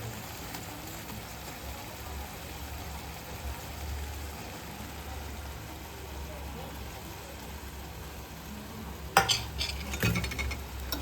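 Grated paneer stirred into gravy in a pan for paneer bhurji, a faint low sizzle with a few sharp spoon scrapes and clatters toward the end, close but quiet.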